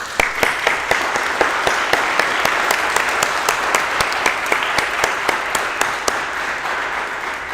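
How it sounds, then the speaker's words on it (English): A school assembly audience gives students and teachers a round of applause at a fine arts awards event, loud continuous clapping with crisp individual claps standing out throughout. "I would like to give you a round of applause"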